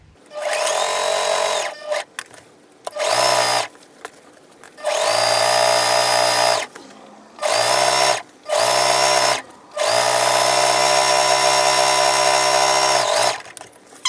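A sewing machine set to a 2.5 stitch length sews a seam on a head wrap or dress in several loud bursts of varying length, each separated by short pauses.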